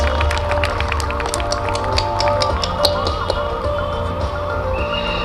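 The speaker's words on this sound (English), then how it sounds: "A great applause and congratulations to both of you" Scattered claps and cheers rise from an audience at ICT's 36th Founder's Day celebration, a steady crowd noise with sharp individual claps over a sustained tonal hum, no one speaking over it.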